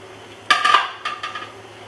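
Garden pumpkin pieces tumble into a cooking pot on a medium flame for Jamaican coconut ackee rice, giving a few close, bright clinks and knocks against the metal before settling to quiet.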